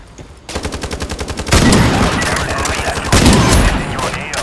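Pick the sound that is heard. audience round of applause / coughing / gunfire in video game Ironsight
gunfire in video game Ironsight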